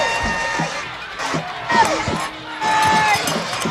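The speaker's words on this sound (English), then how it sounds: "the crowd is really fired up for this next play" A home crowd at a Fort Stockton Panthers versus Greenwood Rangers high school football game cheers and shouts, with scattered whoops and children's yells rising and falling across the stands.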